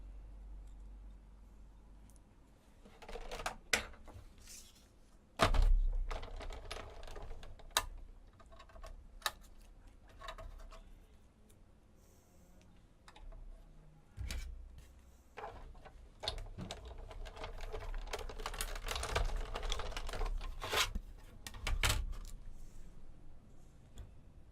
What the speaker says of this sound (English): I'm going to put this through the die cutting machine